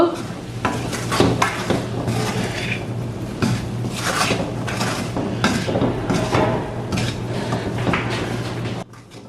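A jackfruit seed and dried anchovy stir-fry gets mixed in a pan, with continuous scraping and clattering of a spatula and a light sizzle underneath. The noise is close and busy and ends abruptly.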